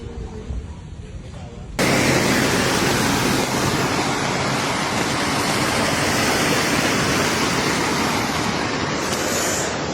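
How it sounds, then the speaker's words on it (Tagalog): After a quieter start, a loud, steady roar of floodwater rushing past a damaged, newly built flood control structure in Ilocos Sur, Philippines, takes over and keeps up without a break, close and dense like a swollen river. "rumaragas ang tubig sa ilog na sira sa Ilocos Sur"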